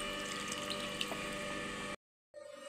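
Water is poured steadily into an egg masala curry with fried eggs in the pan, a continuous close gurgling stream that stops abruptly, followed by quieter bubbling.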